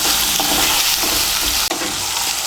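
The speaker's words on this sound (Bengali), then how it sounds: "আলু আর মূলোটাকে ভেজে নিয়েছি তেলের সঙ্গে মিশিয়ে নিয়ে।" Thin-cut potato and radish frying in hot oil give a continuous close sizzle, with a few soft scrapes of stirring and a brief break near the end.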